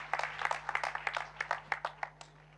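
A church congregation claps in praise, a run of distinct, quick hand claps in a loose rhythm over a faint steady hum, tapering slightly toward the end.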